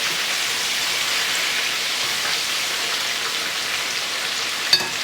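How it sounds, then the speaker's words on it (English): Steady, close sizzling of paprika chicken frying in a hot pan, a constant crackling hiss with one brief clink near the end. "right here I'm frying up that beautiful chicken."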